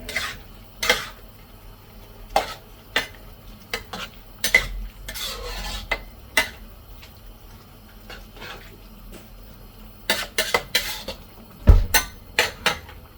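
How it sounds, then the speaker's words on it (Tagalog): Pansit habhab noodles being stirred in a pan, with scattered metal clinks and scrapes of a utensil against the pan at irregular intervals, close and fairly clear, with no talking. "Haluin lang natin."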